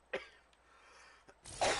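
A single sharp cough up close from a person playing Horizon Forbidden West, then a quieter throat sound, ending in a burst of rustling noise.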